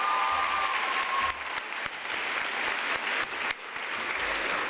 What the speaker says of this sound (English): Please give Dr. Perry another round of applause, please.